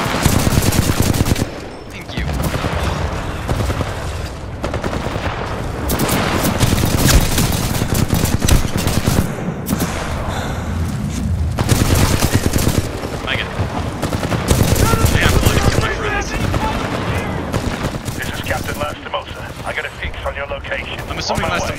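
Heavy, nearly continuous gunfire in the video game Titanfall 2, dense automatic bursts and blasts layered over game noise, loud throughout with a brief dip early on.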